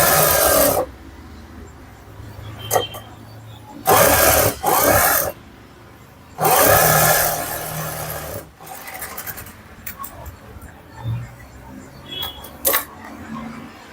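A domestic sewing machine edge-stitching a blouse runs in several short bursts of rapid, rasping mechanical whirr, separated by pauses with faint handling noises and small clicks; close and moderately loud.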